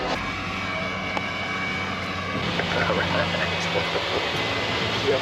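A steady airplane engine drone hums at moderate distance, a continuous roar that swells slightly toward the end.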